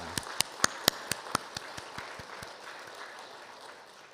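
A church congregation at a Sunday service claps in unison, a run of crisp, evenly spaced claps that start strong and gradually fade into the room over about two and a half seconds.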